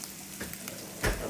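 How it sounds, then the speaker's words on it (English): Onions frying in a pan, a faint soft sizzle with a couple of brief crackling bursts over about a second. "The onions frying just perfect."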